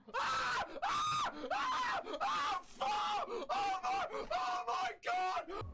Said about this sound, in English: it's very funny to watch middle-aged men screaming at a kid's game